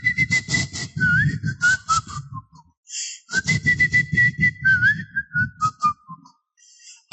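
A preacher whistles a wavering, sliding tune in two phrases separated by a short pause, his voice imitating a man whistling as he walks along happily, delivered loudly over a low rumbling background.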